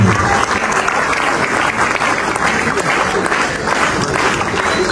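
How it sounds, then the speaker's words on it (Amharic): An audience at a film premiere bursts into loud, dense applause, steady and close throughout, with crowd noise mixed in. "ሳምሪ በጭብጨባ ወደዚህ መድረክ"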